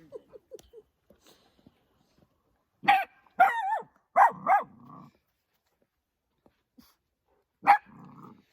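A dog barks sharply in a few short bursts, with low growly tails after some barks and quiet gaps between.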